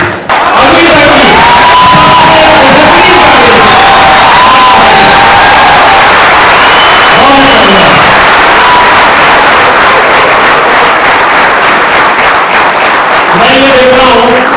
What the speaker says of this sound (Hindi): अब मैं सभी लोगों से ताली रिक्वेस्ट करूंगा, एक शानदार ताली